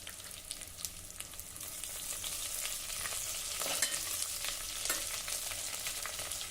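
Green chilli pieces and curry leaves fry in hot oil with a continuous sizzle and crackle, with a few sharper pops and stirring scrapes partway through.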